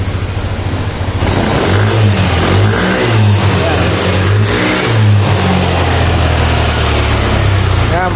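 Repaired motorcycle engine that had been stalling and idling roughly now idles loud and close, with a few rhythmic revs partway through before settling back to a steady idle, and someone talking over it.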